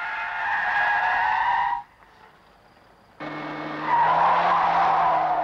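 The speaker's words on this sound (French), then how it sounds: "Mesure du temps de patinage sur sol lisse lors d'une accélération brutale" Tires spin and squeal on smooth ground under hard acceleration, a loud tonal screech that cuts off briefly and resumes with a low engine drone beneath, near and steady with no voices.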